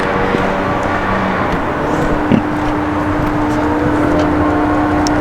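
A Volkswagen Touareg TDI diesel engine runs right after a fuel pump filter install, giving a steady, loud, close drone with a faint whine and one brief knock partway through, with no talking.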